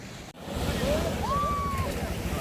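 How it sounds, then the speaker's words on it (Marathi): Steady roar of foaming surf washing ashore, with wind buffeting the microphone and a faint whistling tone partway through. "हा समुद्र फेसाळणारा"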